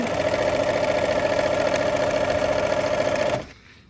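A sewing machine runs steadily, stitching fabric for Y seams and backstitching, with a continuous close mechanical hum that cuts off abruptly near the end.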